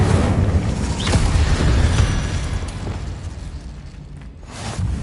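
Fiery spell cast in a Hogwarts wizarding video game: a loud, rumbling burst of flame that swells early and rolls on as a sustained roar, then fades and flares briefly again near the end.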